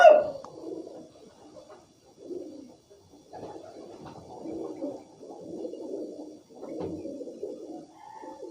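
A male pigeon of a fancy breed coos in a run of soft, low, throaty phrases, close by, with short pauses between bursts.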